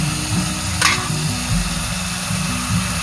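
Banana blossom curry frying in oil with turmeric, cumin and coriander powder and green chilli, stirred steadily: a continuous sizzle with rhythmic scraping strokes and one brief hiss burst.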